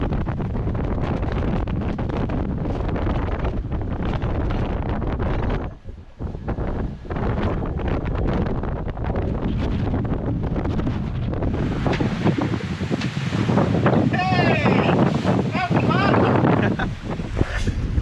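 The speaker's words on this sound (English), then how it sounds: "So that was a fun little rain squall." Strong wind buffets the microphone in continuous roaring gusts of a rain squall, about 35 knots, with rushing water and the sounds of a moving sailboat in the Whitsundays; a voice is briefly audible under the noise.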